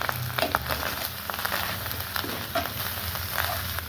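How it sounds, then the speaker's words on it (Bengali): Garlic, ginger and cumin spice paste frying in a pan for a venison curry, a steady close sizzle with soft crackles and occasional scraping stirs, no voices. "মশলাটা ভাজা ভাজা হচ্ছে।"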